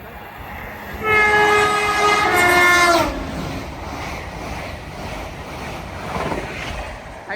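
A British Rail Class 390 electric train passing on the West Coast Main Line at Nuneaton, with a loud steady rush and rumble and a two-second horn blast near the start, then continuing roar.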